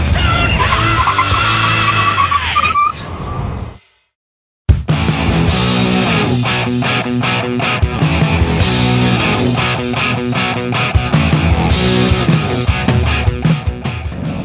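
Chevrolet Sonic braking hard in a stopping test, with loud tire squeal and skidding noise that drops briefly to silence, then engine and road noise with music-like tones. No voices.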